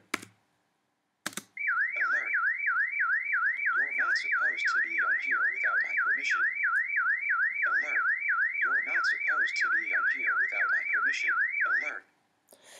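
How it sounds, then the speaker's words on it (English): A loud warbling electronic alarm from a Mac laptop's security app wails continuously for about ten seconds, with keyboard keys clattering underneath. "the alarm does go off"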